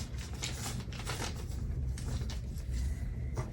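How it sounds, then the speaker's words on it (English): Rain from a thunderstorm falls outside, a soft, steady crackling patter with scattered brighter ticks, faint and continuous throughout. "so if you can hear the rain, that's what that noise is."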